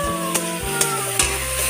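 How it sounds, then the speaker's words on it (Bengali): Chopped tomatoes fry in a pan for a mashed pea dish, giving a steady sizzle with a few sharp clinks of a spatula stirring against the metal at regular intervals. "এরপর কেটে রাখা টমেটোগুলো দিয়ে দেবো, দিয়ে ভালো করে ভেজে নেব।"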